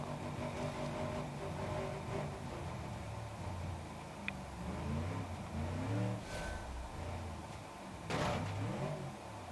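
Car engine in BeamNG.drive held at full throttle, a continuous droning roar with shifting pitch and a couple of brief clunks, fairly quiet and steady throughout.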